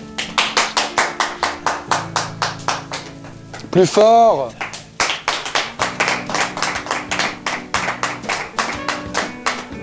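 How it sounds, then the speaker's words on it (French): Rhythmic hand clapping from a crowd, steady and loud, with a short burst of cheering or a whistle midway and a voice speaking briefly. "Quand je fais ça, c'est applaudissements."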